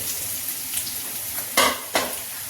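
Onion and cumin fry in hot oil with a continuous sizzling hiss, broken by two sharp stirring scrapes near the end.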